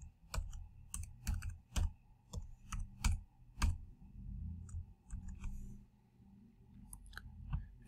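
Someone types a password on a computer keyboard: quiet, irregular clusters of crisp key clicks with short pauses between bursts, heard close up and alone.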